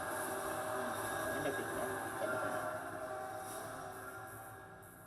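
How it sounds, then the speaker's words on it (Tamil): A train passes through a tunnel in the video game Roblox, a steady, fairly quiet rumble with a broad rushing roar that slowly fades out. "ஷட்டர் வழியா ட்ரெயின் வருது போகுது"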